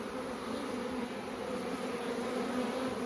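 A dense, steady buzz of a swarm of honey bees droning continuously and close by in Kaneohe, Hawaii, with no pauses or voices.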